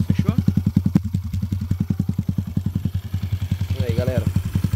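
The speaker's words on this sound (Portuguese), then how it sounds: "Esse barulho aqui, ó, é a placa, fechou?" A lightly modified Honda Pop 2024 motorcycle idling close by, its engine a loud, steady low thump with the license plate rattling along to each pulse, alone without talk.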